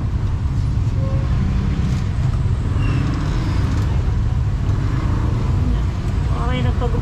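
Slow-moving road traffic near a busy market on market day, with people crossing, makes a dense, continuous rumble of idling and creeping engines, steady and close, with faint voices mixed into the background noise.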